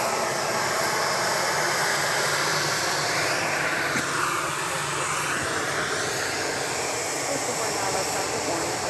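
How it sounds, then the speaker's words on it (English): A Boeing 737-700 airliner arriving at Dallas Love Field, its engines giving a steady, loud broadband roar for the whole stretch, with a faint swell in pitch midway and no talk. "That's flight 4995 arriving from Baltimore Washington International Airport. 737-700."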